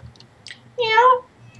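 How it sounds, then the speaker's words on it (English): A pet cat lets out one clear, fairly loud meow that rises and falls in pitch and lasts about half a second, set against quiet room tone with no talking. "that's our kitty. She wanted to speak"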